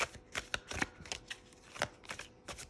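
Tarot cards from a pride-themed deck are shuffled by hand in a quiet room, with a series of quick, crisp riffling bursts coming close and distinct.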